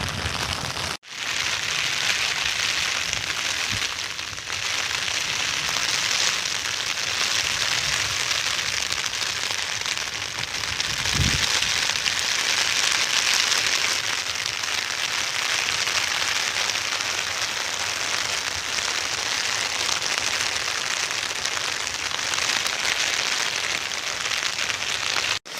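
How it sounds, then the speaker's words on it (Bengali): Heavy, driving rain pours over paddy fields being planted, a dense, unbroken roar of drops that stays loud and even for the whole stretch, with one brief dull thud near the middle and no voices. "বৃষ্টিটা কীরকম হচ্ছে শুধু দেখে যান, কীরকম তেজ বৃষ্টি হচ্ছে"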